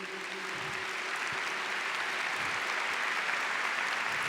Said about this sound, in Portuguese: Vamos dar uma salva de palmas para a palavra de Deus